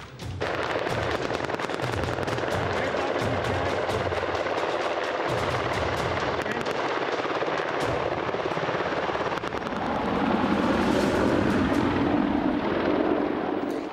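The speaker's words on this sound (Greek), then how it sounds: "Αμερικανικά ελικόπτερα Black Hawk μαζί με την κάλυψη επιθετικών Apache Delta καταφθάνουν και αποβιβάζουν επιπλέον δυνάμεις εφόδου." US Black Hawk transport helicopters with Apache attack helicopters arriving at a Greek-US-Israeli special forces training exercise: a continuous loud rotor roar with rapid chopping pulses, swelling heavier toward the end, with no talk.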